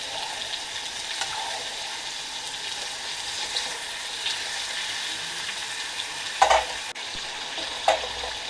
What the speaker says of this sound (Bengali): কস্তুরি মেথি দিয়ে দিছি। মাংস দিয়ে দিচ্ছি।